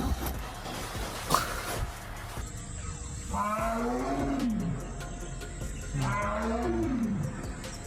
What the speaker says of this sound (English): Sounds like a tiger.